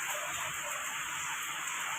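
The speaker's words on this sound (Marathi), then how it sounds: "तर आज येत आहे पाऊस" Rain pours down at home during the monsoon, a dense, steady hiss of drops on surfaces, loud and continuous throughout with no clear voices.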